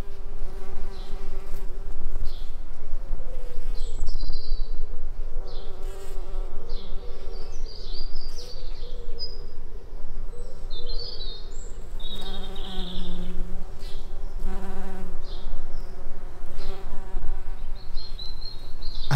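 Bees buzzing steadily around a flowering lavender hedge in an English garden in August, a dense, continuous drone of many insects close by, with faint bird chirps in the background and no talking.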